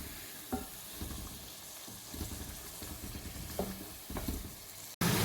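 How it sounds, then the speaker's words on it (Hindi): Chicken fries in a masala paste in a pan for a chicken and potato gravy, a soft sizzle with intermittent scrapes and stirs close by, no voices, ending in a sudden cut. "अब इसको हम तकरीबन 8 मिनट तक हम इसी मसाले में भूनेंगे।"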